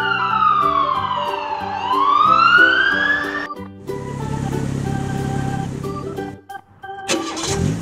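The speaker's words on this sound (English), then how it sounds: "Black police car." A toy black police car plays an electronic siren that swoops in rising and falling wails, then shifts to a steady buzzing engine-like tone with beeps before a brief pause and another siren burst.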